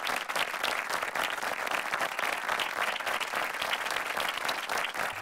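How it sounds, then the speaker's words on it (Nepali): Loud, sustained audience applause fills a televised Nepali singing competition stage, a dense wash of clapping that holds steady for about five seconds with no speech over it. "जोरदार ताली यो प्रयासको लागि"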